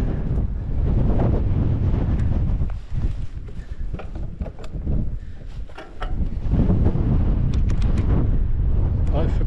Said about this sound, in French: Il y a un peu de vent là.